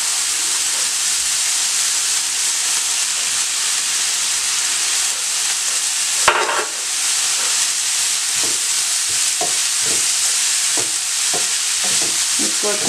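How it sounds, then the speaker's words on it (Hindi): Spinach added to masoor dal cooking in a pan, a loud continuous sizzle and hiss with a burst as the leaves go in, followed by repeated scraping stirs, with no speech. "अब इसमें पालक डालूंगी।"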